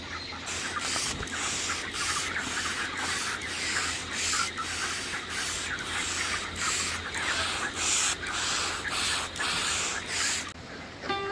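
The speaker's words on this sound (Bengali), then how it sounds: "এরকম স্প্রে করতে থাকলে মুরগির ঘরটা বেশ হেভি ঠান্ডা থাকে।" A water sprayer mists a chicken house with a continuous broad hiss, close and fairly loud, pulsing slightly, and nobody talks.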